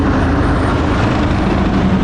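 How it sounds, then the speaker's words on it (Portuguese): A huge rescue helicopter arriving near a beach in Saudi Arabia, a loud, steady low rotor and engine roar filling the whole moment without talk. "porque tá chegando um helicóptero e é um helicóptero gigante ali, ó."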